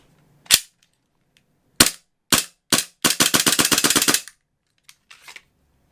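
A TM G18c gas blowback airsoft pistol firing several sharp, close single shots with gaps between them, then a rapid full-auto burst of about a dozen cracks, followed by a few faint clicks.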